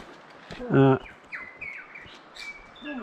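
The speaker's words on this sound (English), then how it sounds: "Wow, hear those birds." A loud, brief burst of bird chatter up close, followed by fainter chirps and whistles in a quiet outdoor setting near Hamilton Hut.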